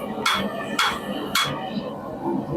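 Three heavy, evenly spaced hammer blows ring out on metal as a bread knife is forged, over a noisy workshop background, followed by quieter clatter.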